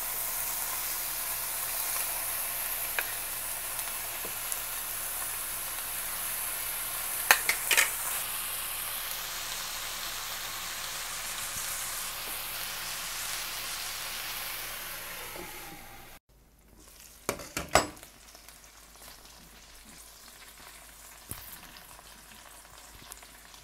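Chicken wings fry in a little oil in a large, heavy pan with a loud, continuous sizzle and hiss that cuts off abruptly partway through, leaving fainter sizzling and a few clattering knocks afterward.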